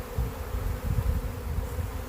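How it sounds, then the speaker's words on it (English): A honey bee swarm droning steadily, a dense, continuous buzz of many bees close by with slight pulsing in loudness, no voices. "Lots of little bees."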